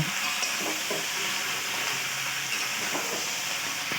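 Eggplant and onion stalks fry in oil in a pan, a constant loud sizzle and hiss with scraping stirs from a utensil repeating at intervals throughout.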